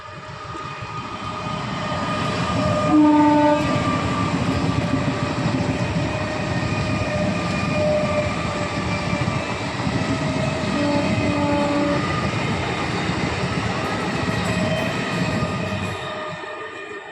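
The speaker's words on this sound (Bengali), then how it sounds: "ওই যে ট্রেন আসছে।" A train arrives and rolls past with a steady, loud rumble of wagons on rails. A brief horn-like tone sounds early, and the noise fades away only at the very end. No one speaks over it.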